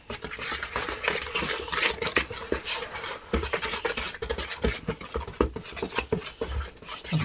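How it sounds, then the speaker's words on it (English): Flour and dry ingredients being mixed by hand into cake batter in a bowl, a steady close scraping and stirring with soft irregular scratches throughout, no talking. "So we just add the flour, all the dry stuff. Just mix that in a bit at a time."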